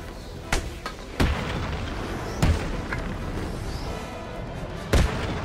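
Gunfire in the video game Batman: Arkham City, heard as four or five sharp, loud shots spaced irregularly over a steady background of game ambience.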